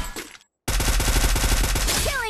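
Rapid gunfire from the mobile shooter Free Fire, with an M1887 and Scar in use: a brief silence, then a loud, close burst of evenly spaced shots that ends in a rising electronic game tone.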